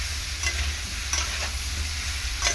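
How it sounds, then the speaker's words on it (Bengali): Ash gourd pieces fry in a pan with a steady, close sizzle and a few soft stirring scrapes, and no voices. "হালকা করে একটু ভেজে নেব চাল কুমড়োটাকে"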